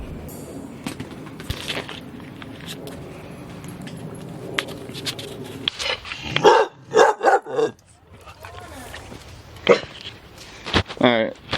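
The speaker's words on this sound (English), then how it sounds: "that was my dog right there" A dog barks several times in quick bursts, then again a bit later, after a stretch of background noise and talking in a garage during a 1993 Honda Accord coupe build.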